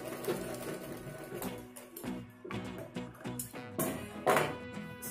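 Sewing machine stitching a folded edge of fabric for a hair band, a steady, moderately close mechanical whir with rhythmic needle clatter running through the whole stretch.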